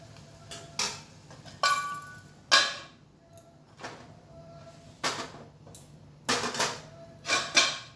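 Metal wok (kadai) set down on a kitchen stove, giving a series of sharp, close clanks and knocks scattered irregularly over quiet background, with no talking.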